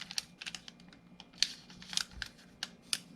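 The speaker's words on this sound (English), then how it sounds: "we're going to make a mountain fold along there" Paper being folded into an origami mountain fold while pre-creasing a wild bull model, heard as a run of short, close crisp crinkles and creases with small gaps between them.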